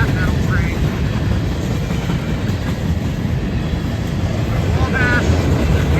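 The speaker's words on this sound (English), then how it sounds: "Wabash Heritage Unit headed north on track 1, CSX track 1 at Glendale, Ohio." A Norfolk Southern Wabash heritage unit locomotive hauling a train north on CSX track 1 at Glendale, Ohio at dusk. It rolls past close and loud with a steady rumble and clattering wheels, and squeals sound briefly as cars go by.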